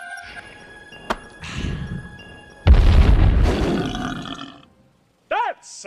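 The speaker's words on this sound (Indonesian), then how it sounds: "Dan ia pun memakan bom dan meledak di perutnya." A sudden loud, rumbling bomb blast in a cartoonish film scene erupts and rolls on for a couple of seconds before fading, preceded by a sharp knock and followed by voices and a squealing cry.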